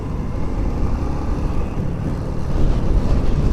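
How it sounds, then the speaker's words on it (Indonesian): Strong sudden wind gusts buffet a rider's motorcycle helmet on a mountain road trip in North Sumatra, a loud continuous low roar and rumble that swells toward the end. "Angin tiba-tiba kencang."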